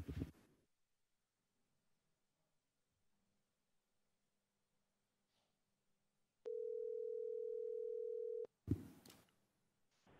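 A steady telephone dial tone on a public call-in line for a school board meeting holds for about two seconds in near silence, then cuts off abruptly before a brief burst of line noise.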